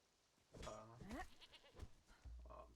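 A goat bleats in a video game as it is hit with a pickaxe, a couple of loud wavering bleats with short impact sounds near the end.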